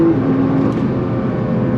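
Nissan R35 GT-R engine pulling hard under throttle in second gear, a steady loud broadband roar with no break, heard from inside the car.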